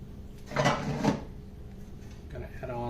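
Metal parts of a LEM #8 Big Bite meat grinder head clank and scrape together close by as it is assembled and tightened down, two firmer knocks early on, with a voice speaking briefly near the end.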